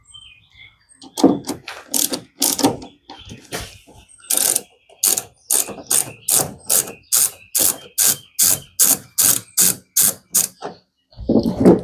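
Rapid ratchet clicks tighten a fastener on a Jeep Gladiator during a flush-mount tail light install, starting in short uneven bursts and settling into a steady run of about fifteen evenly spaced, loud close strokes.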